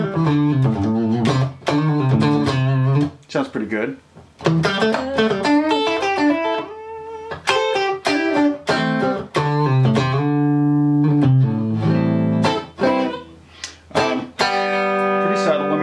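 Electric guitar played through a compressor pedal with level and sustain controls, sustained chords and notes ringing evenly and fairly loud, with someone speaking briefly between phrases.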